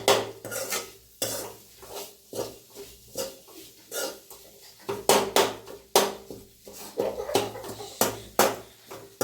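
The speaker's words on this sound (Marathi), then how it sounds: "आणि थोडंसं पाणी टाकून घ्यायचं आता." Egg curry is stirred in a pan after water is added, with loud, rhythmic metal spoon clanks and scrapes against the pan, repeating close up over nearly ten seconds.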